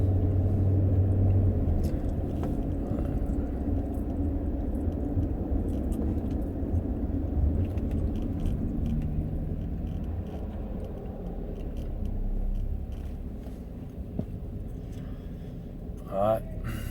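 A car in building commuter traffic gives a steady low road rumble and engine drone from inside the cabin, at moderate loudness throughout, with a person talking over it.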